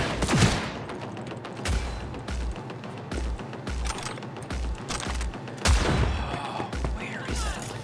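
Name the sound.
gunfire in Cyberpunk 2077 video game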